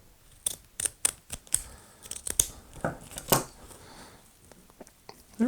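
Scissors snip through ribbon during a Halloween wall-hanging craft, a string of sharp close cuts with paper-like rustles and handling noises in between, uneven in rhythm.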